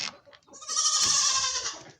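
Goat lets out one long, wavering bleat on a homestead property, rising quickly and holding for over a second before trailing off, fairly close with no talk over it.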